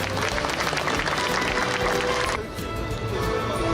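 Audience applause at a Korean webtoon awards ceremony, the first NC webtoon star audition, filling the room with dense clapping and crowd noise that dips briefly partway through before swelling back.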